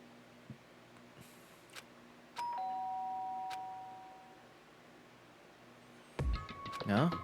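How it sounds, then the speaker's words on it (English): An electronic doorbell chime sounds in the video game Danganronpa: Trigger Happy Havoc, a clear two-tone ring that sustains and fades over a few seconds against a quiet hum, before other game sounds and a voice come in near the end. "But more importantly, I hear the doorbell?"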